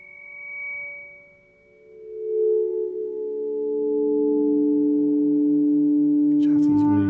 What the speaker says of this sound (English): I can sort of pick out and then try and tease out these different tones.